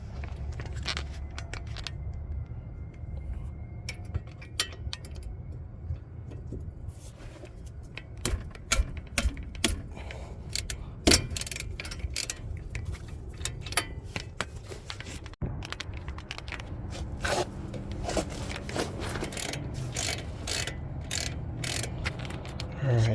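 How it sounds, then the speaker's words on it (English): Ratchet loosening two 17mm brake caliper bolts on a 2010 Hyundai Genesis sedan, a scattered series of sharp metallic clicks and clunks over a low background rumble, close by, with no talking. "got those two bolts loose now."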